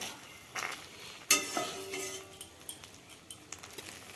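Egg pitha frying in a pan as a spatula lifts it, a soft steady sizzle with a sharp metallic clink near the start and light scraping afterward.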